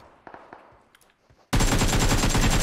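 Sudden, loud, sustained gunfire erupts in the PUBG Mobile video game after a quiet stretch of faint clicks and scattered taps, then continues as a dense, rapid stream of close shots.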